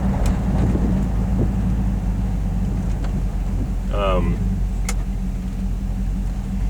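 A steady low engine drone and road rumble from inside a moving Oldsmobile Custom Cruiser wagon with a 6.0 LS engine, constant and close, with a few faint clicks and a brief squeak.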